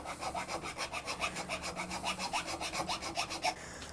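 A 5/8 inch wide medium-cut Iwasaki file rasps across a wooden electric guitar neck in steady back-and-forth strokes, a rhythmic gritty scraping at an even pace, close and alone.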